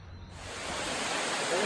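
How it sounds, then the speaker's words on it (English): Steady rain falling in the jungle, a broad hiss that swells and thickens over a couple of seconds, close and continuous with no voices. "Oh, it's raining now."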